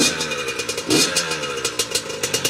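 A Yamaha YZ85 two-stroke dirt bike, a custom frame-up build with a new engine, runs up close and loud, its engine revving in short repeated bursts over a steady buzzing idle.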